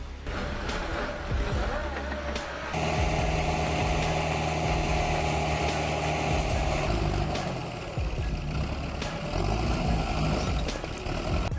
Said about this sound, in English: The Dipper Fox Stump Crusher 600 obliterates up to 3 stumps in under a minute